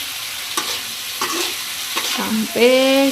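Jengkol with sweet soy sauce is stirred over medium heat in a pan, giving a soft sizzle broken by a few scraping strokes, ending in a short squeaky scrape as the spatula drags across the surface; a brief spoken word is heard.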